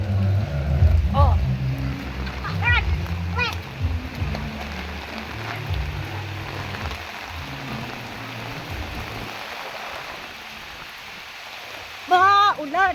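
Rain falls steadily through an evening outing in wet, cold weather, a soft broadband hiss under intermittent talking and some low rumbling, with brief tonal chirps near the end.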